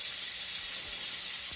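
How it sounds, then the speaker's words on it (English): Bacon sizzles in a frying pan, giving a steady, even hiss of crackling fat that stays constant throughout, with no speech. "Another layer is the sizzling bacon."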